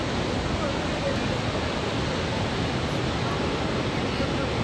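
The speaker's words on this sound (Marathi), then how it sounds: "ठोसेघरचा धबधबा पाहण्यासाठी या ठिकाणी आलेलो आहे" The Thoseghar waterfall roars as a dense, unbroken rush of falling water, loud and steady throughout with no pauses.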